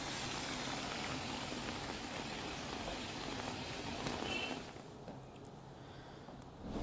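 Monsoon rain falls in a village street in Khadadhar, near Khambha in Amreli's Gir area, as a soft, steady hiss that drops noticeably quieter partway through, with no voices.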